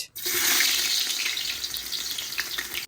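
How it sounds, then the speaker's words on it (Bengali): Onions frying hard in hot oil and ghee in a pot, a loud, steady broadband sizzle that holds for nearly three seconds before cutting off, with no voices. "আর পেঁয়াজটা দেওয়ার পরে গ্যাসের ফ্লেমটা হাই করে দিয়ে কিন্তু প্রায় দশ থেকে পনেরো মিনিট ধরে ভালো করে কুক করতে হবে পেঁয়াজটাকে"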